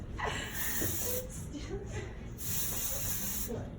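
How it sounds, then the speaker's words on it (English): Two long, close hissing bursts of dry texture hair spray aimed at the roots, separated by a short pause, with faint voices in the background. "Dry texture spray, very heavy-handed with it on the roots"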